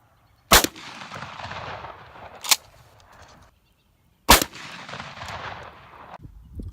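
A shotgun fitted with a modified choke fires three sharp, loud reports at a downrange target, each followed by a ringing decay, with quiet gaps between the shots.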